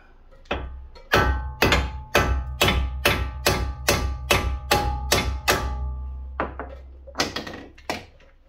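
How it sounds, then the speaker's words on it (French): Hammer strikes on a front right suspension ball joint of a Nissan, a dozen or so sharp metallic blows in a steady rhythm with a brief pause, loud and close, ringing over a low hum. "Avec un marteau, on vient taper."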